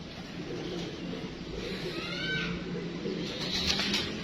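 Pigeons of a show breed coo in a loft, soft throaty calls repeating close by over steady background noise and faint voices.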